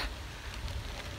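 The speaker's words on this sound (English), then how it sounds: "So now it's raining." Rain pouring down during a bike ride in a thunderstorm, a steady broadband hiss of drops on surfaces, continuous and fairly loud with no talk over it.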